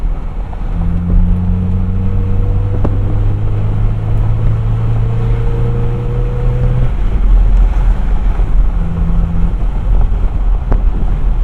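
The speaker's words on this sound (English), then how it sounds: "The engine makes a nice sound." A 1987 Toyota Xtracab 4x4 pickup engine revs up, with a steady low drone and rising tones for several seconds, then eases off, with wind noise throughout.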